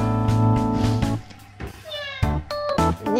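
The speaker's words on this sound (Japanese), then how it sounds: "にゃん言ってるよ。" A cat meows several times in a house with a Boston Terrier, rising harmonic cries standing out clearly over a loud, busy indoor background with other noises and voices.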